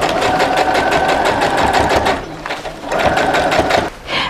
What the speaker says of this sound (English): we'll take it over to the machine and make sure this is nicely stitched in place.